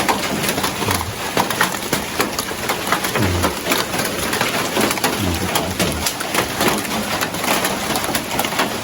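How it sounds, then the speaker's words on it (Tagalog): Heavy rain pours down steadily in a dense, continuous hiss with no voices, broken by a few low thuds from drops striking a surface. "Lakas ng ulan."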